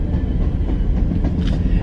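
A train rumbles past nearby, a loud, continuous heavy roar with faint rhythmic rattling of the cars on the rails.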